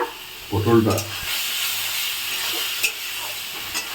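Pointed gourd, potato, mango and tomato hit hot oil with a bright burst of sizzling, then a steady frying hiss and a few utensil clicks, close up.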